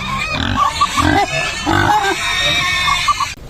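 Loud, close grunts and squeals from hungry pigs coming in repeated bursts, with oinking continuing throughout and other animal noise in the background.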